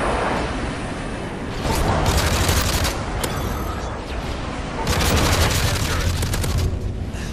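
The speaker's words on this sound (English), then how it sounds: "Enemy airstrike approaching." Call of Duty MW3 battle noise with an incoming enemy airstrike: two loud waves of rapid gunfire and booming explosions crash over continuous rumbling combat, with voices talking under the din.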